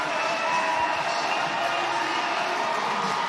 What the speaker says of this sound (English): Just letting that crowd's noise go for everybody, just cheering her on.